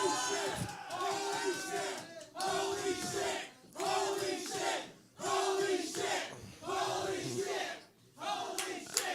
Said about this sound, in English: the crowd impressed by it